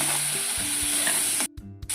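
A garlic chutney mixture hisses loudly as it fries in hot oil with mustard seeds and cumin in a kadhai, and a spoon scrapes through it; close up, with the sizzle briefly dropping out near the end.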